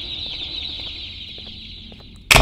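Birds in the video game Garten of BanBan 2 keep up a steady high chirping cluck close by, ending in a sudden loud burst.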